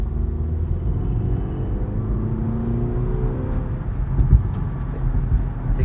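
A BMW X1 in base trim, driven through turns in sport mode, gives a steady low engine and road rumble from inside the cabin with mild revving that swells slightly near the end.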